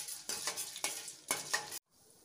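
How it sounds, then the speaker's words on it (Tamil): Chana dal and urad dal are fried in oil with mustard seeds and stirred in a pan, giving three or four close scraping, sizzling bursts before it cuts to quiet. "கடுகு பொரிஞ்சதும் அதில் கடலைப்பருப்பு, உளுத்தம்பருப்பு சேர்த்துட்டு நல்லா நிறம் மாறுற வரைக்கும் வறுக்கணும்."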